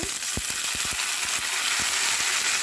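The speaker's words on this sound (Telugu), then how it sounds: "ఫస్ట్ అయితే పచ్చిమిర్చి కరివేపాకు వేసుకున్నాము తర్వాత ఆనియన్స్ తర్వాత ఇందులోనే టమాటోస్" Green chillies, curry leaves, onions and tomatoes frying in oil in a pan, a loud continuous sizzle with quick clicking spatters and stirring taps, and no voices.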